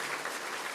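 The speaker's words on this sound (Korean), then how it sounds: "우리 박수로 좀 환영해 주시면 좋겠습니다" Brief burst of dense, steady clapping from a church congregation welcoming guests during a Sunday worship service.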